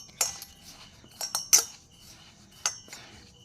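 A spoon mixing ground rice flour with salt and ghee in a metal bowl, heard as five or six close, bright clinks and scrapes spaced irregularly over a quiet background, with no talking.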